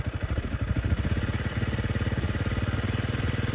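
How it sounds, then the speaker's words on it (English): A Honda CRF300L Rally motorcycle engine runs in neutral with light throttle, a steady, rapid low thrumming pulse held at an even rev, close by and with no talk. "We're just going to work, giving it a little bit of rev."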